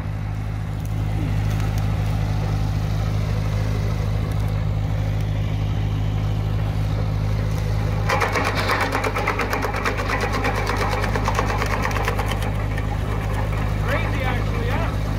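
A Rębak RP-200 wood chipper runs loud and steady while chewing branches, a constant engine drone that turns into a harsher, rattling grind midway as wood feeds in, with voices talking over it.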